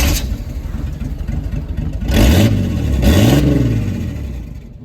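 A loud, raw 4.3 V6 engine with no exhaust idles roughly and then revs twice, rising and falling, its unmuffled rumble close and rattly.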